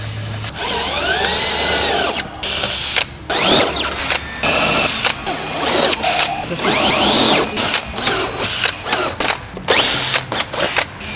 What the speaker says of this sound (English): we use the Flow Designs jack nut compression tool and our 10mm drill bit to tighten them up